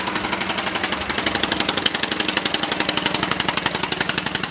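Small engine starting and settling into a steady, fast knocking idle, close and loud, with a rapid regular chugging rhythm throughout and no talk.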